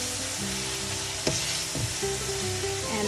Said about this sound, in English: We're just going to keep browning the meat.